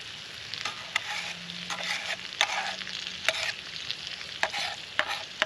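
An egg frying in a canteen cup over a Trangia stove outdoors, a steady faint sizzle broken by repeated sharp scrapes and taps of a utensil against the metal cup.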